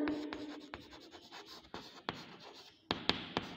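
Handwriting a maths example with a pen or chalk, a series of close scratchy strokes and sharp taps in an irregular rhythm, quiet and without speech.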